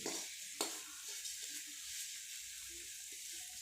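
Sugar syrup for coconut laddoos being stirred slowly in a pan, a quiet scraping and soft bubbling sizzle with a couple of sharper spoon knocks, no voices.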